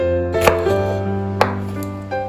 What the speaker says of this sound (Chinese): 把它也斜刀切，切的时候不要切断